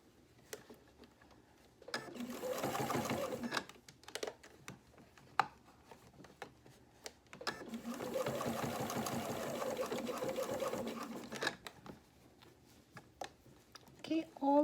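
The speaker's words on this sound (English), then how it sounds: "I'm just going to top stitch the seam allowance to the shirt." A sewing machine top stitches a polo shirt seam in two bursts of rapid, even whirring a couple of seconds and about four seconds long, separated by quiet handling and a person talking.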